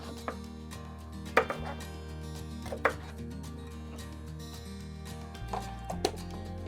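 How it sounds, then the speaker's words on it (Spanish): A knife chops through an eggplant on a cutting board, a few distinct sharp thuds spaced out over a quiet kitchen background with a low hum. "Ahora sí, cortamos la berenjena."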